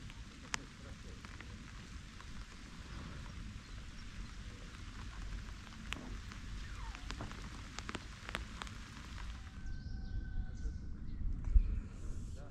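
Rain falls steadily on a surface outdoors while float fishing for crucian carp in summer, with a continuous hiss and distinct drops striking nearby, growing slightly heavier toward the end.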